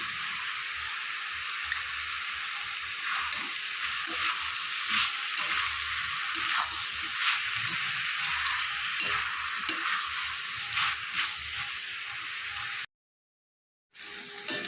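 Steady sizzling of banana flower curry with sugar frying in a pan, close and continuous with stirring scrapes, cutting out briefly near the end.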